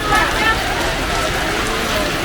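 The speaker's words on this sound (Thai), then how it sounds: "ฝนตกครับวัดนี้นะฮะ" Rain falls at a Thai temple in a steady, loud, unbroken hiss of drops on surfaces that fills the whole moment.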